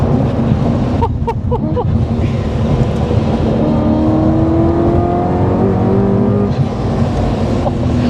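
A loud 720bhp supercharged BMW E92 M3 engine drones steadily with rising whine, punctuated by a few sharp bursts of atmospheric blow-off valve chatter around the second mark.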